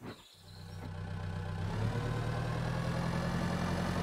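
A tractor in the farming simulator Pure Farming 2018 starts up and settles into a steady low engine drone, close and continuous after a brief initial thump.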